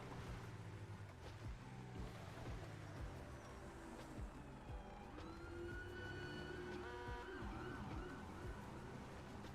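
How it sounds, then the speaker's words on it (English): Police siren in a roleplay driving game, a faint, distant wail with rising and falling tones over a low rumble of vehicle noise. It grows a bit clearer toward the end. "I hear a siren?"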